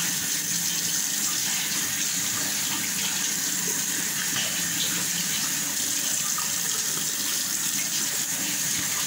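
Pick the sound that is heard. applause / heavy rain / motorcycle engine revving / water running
water running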